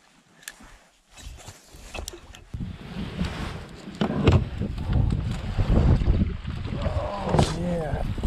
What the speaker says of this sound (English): love all this wind that just decided to pick up